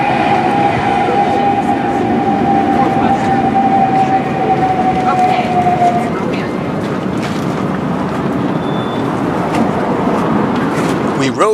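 A tram in Tallinn heading to the Kadriorg district rumbles and rattles steadily along its tracks, with a long squeal from the wheels early on and a continuous droning hum throughout.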